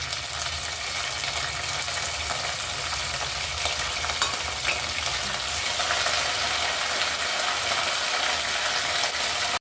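Green chillies, coriander, mint and curry leaves fry in hot oil, giving a dense, steady sizzle and crackle close by, with light stirring scrapes throughout and no voices.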